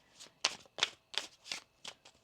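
Tarot cards being shuffled by hand, a run of six crisp riffling bursts at an even pace, close and fairly quiet with no speech.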